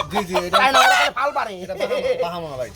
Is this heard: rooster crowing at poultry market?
yes